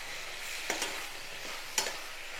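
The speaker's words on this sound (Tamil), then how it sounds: "இந்த கத்திரிக்காவை நல்லா பாதி அளவு வதங்குற மாதிரி ஒரு 5 நிமிஷம் நல்லா வதக்கி விடணும்." Eggplant sautés in a pan, a soft steady sizzle with two brief scraping stirs of a spoon, quiet and close with no voices.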